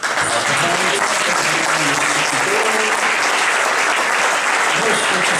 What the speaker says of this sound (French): Nous avions pu applaudir tout d'abord Monsieur Kiko